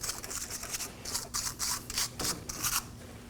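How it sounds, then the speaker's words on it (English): Short rhythmic strokes of a wire brush scrub the front strut and steering knuckle of a 2013–2019 Nissan Sentra, a dry raspy scratching repeated in quick bursts, close and fairly quiet. "I'm just going to use a wire brush. We'll give this a quick cleaning."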